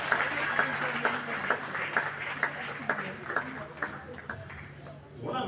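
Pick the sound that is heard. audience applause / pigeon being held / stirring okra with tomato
audience applause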